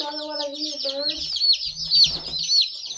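Cackle Hatchery chicks, two days in transit, peep in a dense, continuous high chatter as their box is opened, with a low voice speaking briefly underneath at the start.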